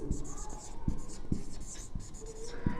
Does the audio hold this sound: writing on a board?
yes